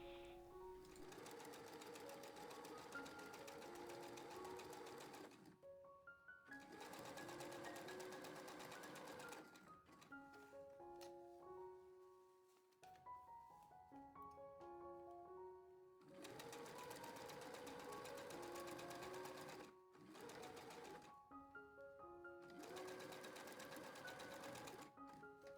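A sewing machine stitches pockets onto a skirt, running in long steady bursts of several seconds each, with short pauses between runs as the fabric is repositioned, close and clear with no talking.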